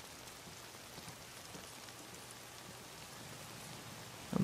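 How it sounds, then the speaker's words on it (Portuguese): Rainfall in the video game Days Gone, a steady, even hiss of drops on surfaces that holds constant throughout, fairly quiet and without talking, ending in a brief louder bump. "Chovendo, pô."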